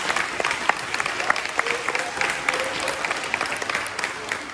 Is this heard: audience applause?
yes